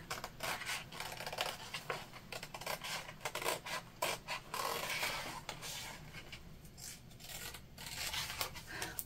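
Scissors snip through purse fabric in quick repeated cuts, close up, with soft rustling between strokes.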